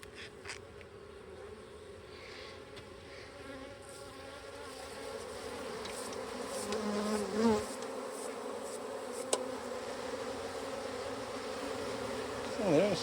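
Honeybees buzz loudly and steadily around an open hive during an inspection, a dense close drone that rises and swells with agitation, the colony disturbed after a frame full of syrup is lifted.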